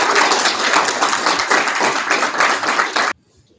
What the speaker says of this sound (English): Can I have another round of applause for Daniel?